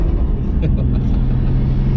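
A Nissan Skyline R33 GTST engine rumbles loudly and close, with a steady low drone and slight fluctuations, running throughout without pause.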